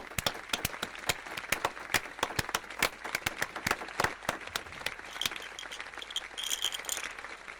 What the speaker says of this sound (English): A very big applause to them.